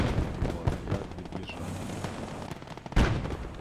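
Machine-gun and cannon fire in the WWII strategy game Gates of Hell: Ostfront, a dense run of sharp overlapping shots with one heavier boom near the end, no talk over it.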